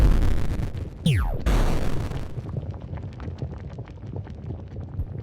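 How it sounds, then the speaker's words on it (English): Explosions go off in lava in the video game Lazr, with a sharp blast and a swooping synthetic sweep near the start, followed by dense crackling, popping and bubbling debris that gradually thins out. "Let's take a look at explosions in lava."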